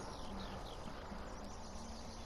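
Horse hooves in Farming Simulator 19 clip-clop at a steady walking pace, close and fairly quiet, with soft thuds and no speech.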